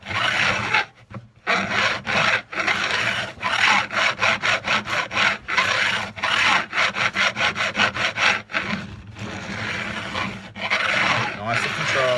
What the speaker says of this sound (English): You can hear that, you can hear it scraping.